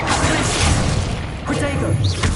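A Bombarda blasting spell goes off in the Hogwarts Legacy video game: a loud, close, sustained booming burst with crashing, rumbling debris filling the whole moment, while a voice talks faintly underneath.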